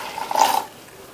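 Water is poured into blended curd to make buttermilk, a short gurgling splash that swells and cuts off after about half a second, close and loud in a quiet kitchen.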